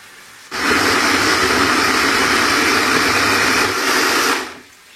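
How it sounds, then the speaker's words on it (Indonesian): A blender grinds a spice paste of chili, kencur, candlenut, shallot, garlic, tomato and shrimp paste with vegetable oil, running as a loud, steady whirring roar for about four seconds before cutting off, with no talk over it. "Ini ada kencur, kemiri, bawang merah, bawang putih, tomat, dan terasi ya. Mau kita blender aja."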